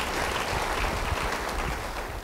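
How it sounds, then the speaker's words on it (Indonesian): A church congregation claps steadily, a dense, continuous patter of many hands with no voices over it. "Beri tepuk tangan bagi dia."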